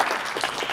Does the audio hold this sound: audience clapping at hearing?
yes